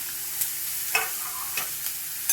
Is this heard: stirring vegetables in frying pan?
yes